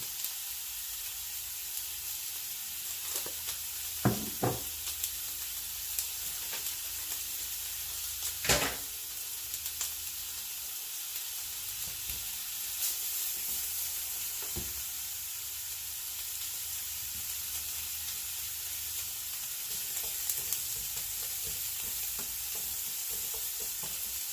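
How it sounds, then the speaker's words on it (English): Steady frying sizzle of asparagus with salt and pepper fills the pan, a constant hiss with occasional pops and a few clinks of a utensil, no talking. "we're just going to let it sit here and sizzle until it gets nice and brown"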